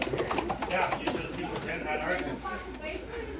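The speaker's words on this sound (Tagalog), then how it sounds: "Ayan mga ibon." Young racing pigeons back from a short practice race, with soft cooing and fluttering close by, under someone talking.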